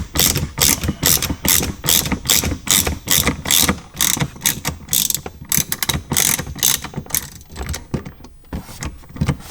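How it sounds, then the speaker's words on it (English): Loud, close ratchet clicking as a T20 Torx bit unscrews the seat belt screws in a BMW M3, coming in fast repeated bursts of sharp ticks with brief pauses between strokes and no talking. "we're using a T20 Torx bit. Going to unscrew these two screws"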